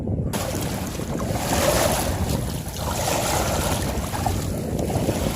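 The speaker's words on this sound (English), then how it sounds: "That's the Atlantic Ocean." Atlantic Ocean surf at Alma as the tide goes out, a continuous wash of waves mixed with gusting wind noise, fairly loud and steady, with no voices.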